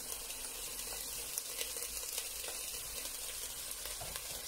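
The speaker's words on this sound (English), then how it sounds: "when everything is frying, you are then going to start to add your ginger" Vegan pasta ingredients fry in a pot with a faint, steady sizzle and light crackle throughout, no talking.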